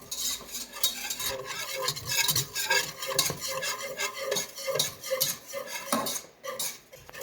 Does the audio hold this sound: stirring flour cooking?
yes